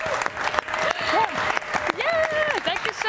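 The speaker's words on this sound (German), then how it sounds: "Ja, ihr könnt ruhig klatschen." Audience at a German film show clapping, a short burst of dense applause with a voice speaking over it.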